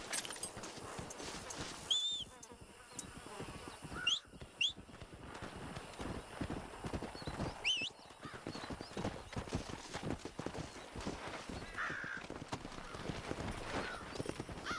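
Horse hooves clip-clop steadily at a walk in the Western video game Red Dead Redemption, with a few faint whinnies and background ambience.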